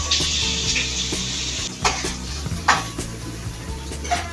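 Mushrooms sauté in a pan for a gravy sauce, with a steady close sizzle broken by several scraping stirs and clinks of a utensil against the pan.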